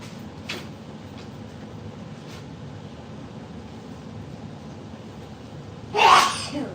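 A single sharp sneeze bursts out near the end over quiet background noise.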